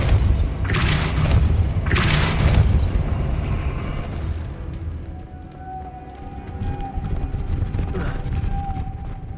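The Depulso spell is cast in the video game Hogwarts Legacy, producing heavy, muffled booming thumps of a magical blast that fade into softer game ambience with a faint sustained tone.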